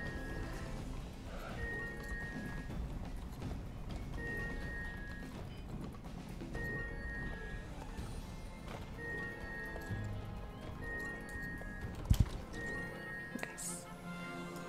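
Horse hooves clip-clopping in the video game Star Stable as a level 1 horse is ridden, a faint steady rhythmic patter under background music and a sharp click near the end.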